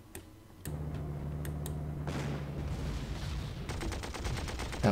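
Gunfire in the Africa Corps war game: a few sharp clicks, then a sustained rattling burst with a humming tone, giving way to a rapid ticking stream of shots at moderate loudness.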